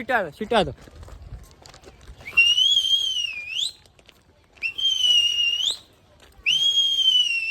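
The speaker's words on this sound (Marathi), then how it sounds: "तुम्ही कसा पोरींना शिट्ट्या मारतो" Three long, bright whistled notes with sliding pitch, separated by short pauses, following a brief burst of voice at the start, in Matheran, India.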